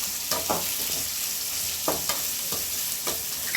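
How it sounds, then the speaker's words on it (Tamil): Three medium onions sautéing in a pan for fish kuzhambu, a steady close sizzle broken by repeated spoon scrapes and stirring strokes, no voices. "வெங்காயம் வதங்கட்டும்."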